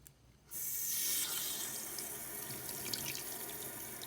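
After a brief quiet moment, water gushes from a Moen single-handle faucet in a steady, continuous stream that splashes into a sink nearby.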